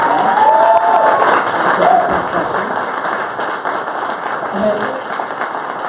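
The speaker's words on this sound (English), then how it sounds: "Let's give another round of applause for our candidates." Audience applause and some cheering for candidates at a municipal election debate in Ajax, a loud burst of clapping that gradually thins, with voices talking over it.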